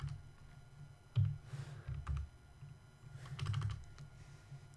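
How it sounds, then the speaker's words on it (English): A network filter is tapped out on a computer keyboard in irregular clusters of crisp key clicks with short pauses between, close and moderately quiet, with no speech. "we're going to go type in a new filter here, udp.port"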